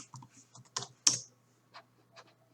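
Keys clatter on a computer keyboard in a few irregular taps and clicks, close and quiet, with one sharper strike partway through and no voices.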